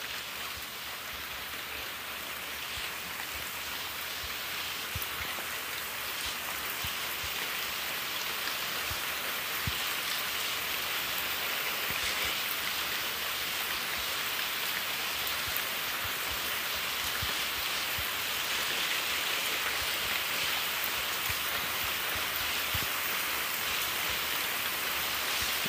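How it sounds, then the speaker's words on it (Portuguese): Heavy rain pours steadily within a Free Fire game match, a dense, even hiss that stays loud and unbroken throughout with faint scattered taps of drops. "Meu Deus, tá chovendo muito aqui, Dani."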